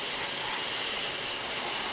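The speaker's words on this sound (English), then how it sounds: "I'm just spraying right down on the edge of there, trying to make sure I catch all of the different areas" An airbrush sprays weathering paint onto a Union Pacific SD70 model locomotive, giving a loud, continuous close hiss with no pauses and no voices.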